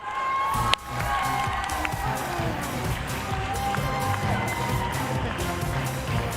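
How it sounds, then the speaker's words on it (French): A crowd at a Just Dance French Cup competition cheers and shouts in a long, loud, continuous roar after a sharp clap near the start, with high whoops carrying over the din. "Je veux un tonnerre d'applaudissements pour Bastien."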